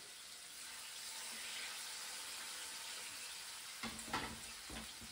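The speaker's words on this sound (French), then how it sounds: "on va faire revenir nos cuisses de lapin" Soft, continuous sizzle of rabbit legs browning in oil in a pan, with a few utensil clinks and scrapes near the end.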